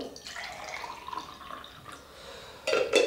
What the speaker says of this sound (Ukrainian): беру собі з одної баночки, наливаю